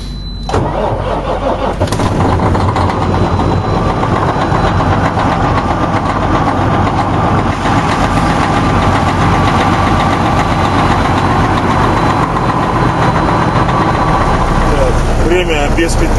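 A diesel vehicle engine cranks and catches on a cold morning at minus three degrees, started without clutch or throttle. It then settles into a loud, steady, rumbling idle close by for the rest of the clip, with a voice speaking briefly.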